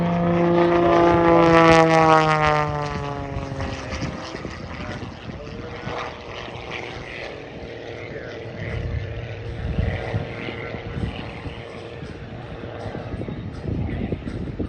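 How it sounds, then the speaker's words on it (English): A propeller airplane drones loudly overhead at the 2023 Oshkosh airshow, its engine pitch sliding downward as it passes, then fading into a steadier hum with some crowd noise. "now, ladies and gentlemen, eyes on Bill's airplane"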